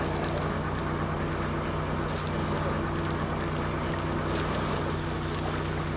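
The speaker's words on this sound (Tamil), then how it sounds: "ஸோ இந்த ஃபிஷ் மேலே கொஞ்சம் நல்ல தாராளமாக எண்ணெய் விடுங்க. ஸோ இது 2 சைடும் சூப்பராக ரோஸ்ட் ஆகணும்." Rohu fish fries in a pan with plenty of oil, giving a loud, continuous sizzling hiss that stays steady throughout.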